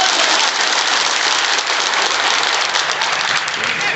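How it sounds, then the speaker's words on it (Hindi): A rally crowd in Bhopal, teachers among them, claps loudly and steadily in a dense, unbroken wash of applause, with no voices standing out. "उनके सम्मान में एक बार जोरदार ताली आप लोग बजाएं"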